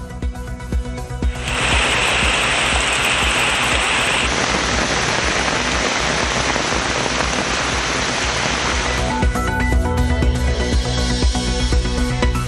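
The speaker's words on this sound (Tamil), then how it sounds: "கொட்டி தீர்த்த கனமழையால் சாலைகளில் வெள்ளம்" Heavy monsoon rain pouring down and floodwater across roads in Tamil Nadu, a dense, steady roar of rainfall that holds loud and unbroken for the whole stretch, with no voices.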